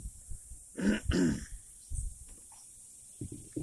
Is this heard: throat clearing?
yes